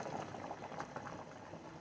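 A pot of water bubbles at a rolling boil on the stove, a close, steady seething and popping that continues evenly throughout at low volume, with no talking.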